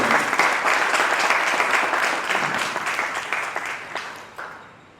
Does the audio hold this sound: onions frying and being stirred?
no